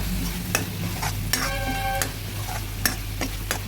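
A masala with chili powder and green chilies frying in a pan for a rohu fish curry, with a constant sizzle and regular spoon scrapes and knocks against the pan, close and clear.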